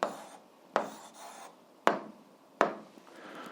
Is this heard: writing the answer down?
yes